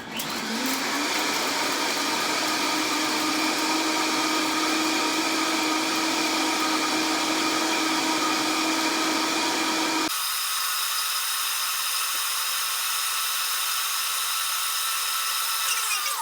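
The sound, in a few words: blender blending a green smoothie on high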